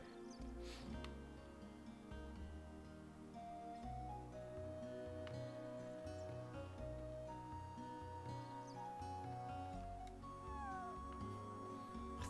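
Several cats meow repeatedly in the video game Chrono Cross, their cries rising and falling over a steady background music loop, moderately loud with no talk.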